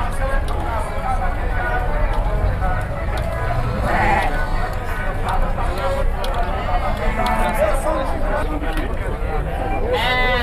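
Goats and sheep bleat repeatedly amid a crowded pen at the goat and sheep fair in Campina Grande, Paraíba, their cries rising over steady crowd babble and someone talking close by.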